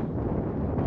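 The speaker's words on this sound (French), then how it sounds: "Le vent est là." Low, steady outdoor wind buffets the microphone in a short gusty rush during kite flying, with no voices.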